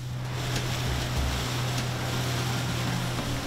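A boat travelling on the sea near a nuclear power plant gives a steady low engine drone under rushing wind and water noise, loud and continuous.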